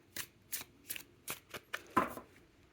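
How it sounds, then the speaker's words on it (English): A deck of tarot cards being shuffled by hand in about seven quick, crisp riffles spaced roughly evenly, close and fairly quiet, with no talking. "I will shuffle for you, okay? Shuffling for the YouTube."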